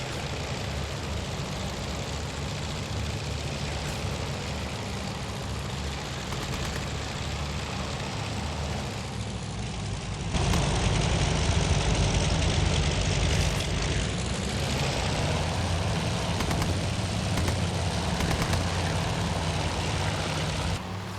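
Wartime Wildcat and Zero fighter engines drone in the naval combat game Task Force Admiral, a continuous loud propeller roar that swells louder midway as the aircraft close in.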